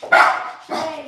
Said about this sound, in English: Now I can hear stuff, and that's my dog.